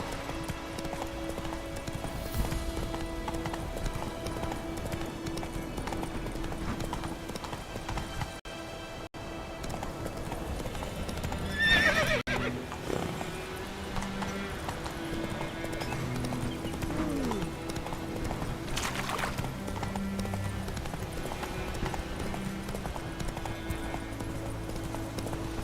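Horse hooves clip-clop steadily in The Witcher 3 open-world game as the mount trots along, a continuous rhythmic patter over ambient game music, with a brief whinny and a short gap partway through.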